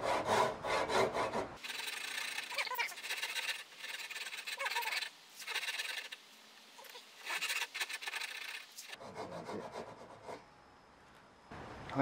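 A Japanese hand saw cuts wood for a tenon joint with steady back-and-forth rasping strokes, close and clear, pausing for a couple of seconds midway before sawing resumes.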